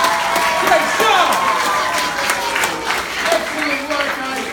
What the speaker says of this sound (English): We're going to give them a big round of applause!